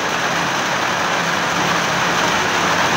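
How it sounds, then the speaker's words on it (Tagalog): Rain falling on a rainy Sunday in the Philippines, a steady, full wash of broadband hiss that holds constant and loud throughout, with no voices. "yung ulan po lumalakas, sumihina na naman. Ngayon lumakas ulit."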